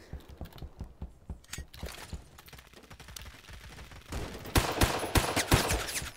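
Gunfire rattles in the video game Phantom Forces, bursts of rapid shots that start sparse and scattered, then grow denser and louder toward the end, with no talk over them.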